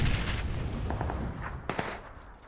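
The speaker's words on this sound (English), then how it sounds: "I noticed some shots to my right" Scattered gunshots in a battle royale video game crack at a distance over a steady ambient game background, with a few sharper reports near the middle and a fading tail.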